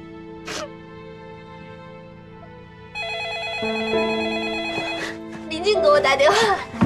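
A telephone bell rings in repeated electronic trills indoors, starting partway through and continuing steadily, with brief voices and vocal sounds before and around the ringing.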